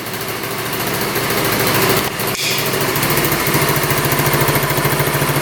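A small, cheap scooter engine, previously thought unfixable, runs steadily close by with a buzzy, high-pitched drone, briefly dipping and then revving up again. A rapid pulsing engine note takes over toward the end.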